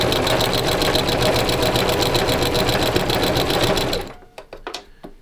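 Sewing machine stitching a pillow seam, a steady fast needle chatter running continuously up close for about four seconds, then stopping, followed by a few faint clicks and handling taps.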